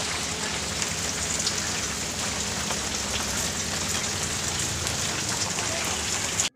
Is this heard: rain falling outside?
yes